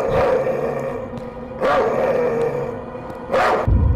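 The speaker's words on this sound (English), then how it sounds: "Where'd he learn how to bark like that?" A man turned into a dog in a video game barks in three loud, harsh bursts spaced about a second and a half apart, with game background sound between them.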